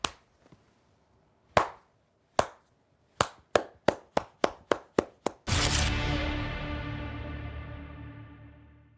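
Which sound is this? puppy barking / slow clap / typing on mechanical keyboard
slow clap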